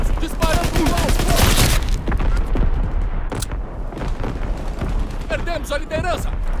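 An artillery strike fires during a Call of Duty WWII team deathmatch match on PC: dense booming blasts and rapid gunfire pile up at the start, then lighter shots under radio voices.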